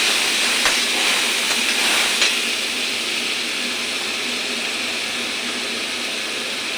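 A spice paste hits hot oil in a pan for a dish of hilsa fish head and winter vegetables, raising a loud, steady sizzling hiss with a couple of brief spits early on that settles into a constant frying roar.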